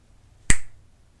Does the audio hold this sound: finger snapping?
yes